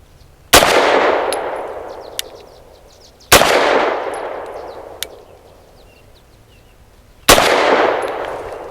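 Three loud, sharp pistol shots from an FB Radom Vis 100 M1 firing Fiocchi 100 grain frangible ammunition, spaced a few seconds apart, each with a bright crack and a long reverberant decay, plus faint metallic clinks between shots.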